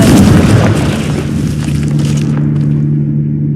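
A Confringo spell detonates in Hogwarts Legacy, a loud booming blast with crackling debris that settles into a sustained rumbling, droning tail.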